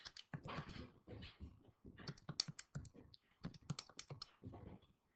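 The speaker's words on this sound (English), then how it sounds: "Type that in our calculator." Fingers tapping keys on a calculator, a quick run of light plastic clicks in irregular bursts, close and faint, with no talking.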